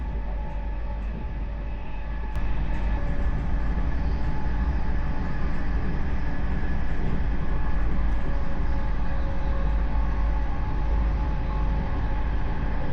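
A RENFE AVANT fast train running from Madrid Chamartín to Segovia, heard from inside as a steady deep rumble and rolling rail noise that swells slightly after the opening seconds and holds constant.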